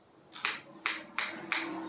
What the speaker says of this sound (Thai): มีแบบตัวล็อกที่ว่ามีเสียงดังออกมาแก๊กๆเลยครับ